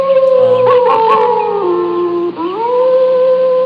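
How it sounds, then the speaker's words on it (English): Coyote howling with long wavering, rising and falling tones and yips layered over each other, loud and close, continuing steadily through the whole stretch without talk. "in just a second, the coyote's going to howl"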